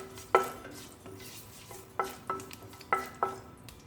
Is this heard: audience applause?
no